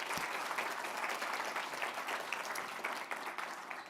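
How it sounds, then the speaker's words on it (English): A conference audience breaks into a round of applause, many hands clapping in a full, even wash that runs for several seconds and thins slightly toward the end. "So quick round of applause for them."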